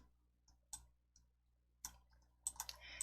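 Computer mouse clicks while working in PowerPoint, several sharp, quiet, close clicks spaced irregularly, with a quick cluster near the end over near silence.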